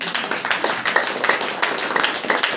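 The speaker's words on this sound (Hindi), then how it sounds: "बोले ताली बजाकर" A church congregation claps hands at a Saturday prayer meeting, a dense run of close, overlapping claps with a loose rhythm continuing throughout, with little else over it.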